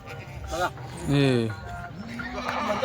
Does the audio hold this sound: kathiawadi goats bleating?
yes